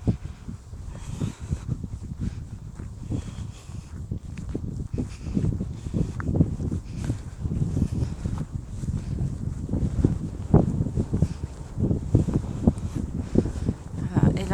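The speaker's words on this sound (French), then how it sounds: "Vous allez en plus avoir en prime le bruit du vent qui s'est de nouveau levé." Wind gusting steadily across open fields during a countryside walk near a village, a continuous low rumble with buffeting on the microphone, mixed with soft footsteps and rustling.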